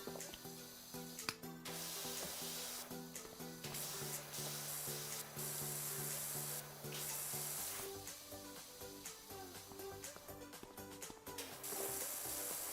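Pressure washer firing through a finer nozzle while cleaning a playground, giving a steady loud hissing spray that runs almost nonstop, with brief dips and a faint mechanical whine beneath.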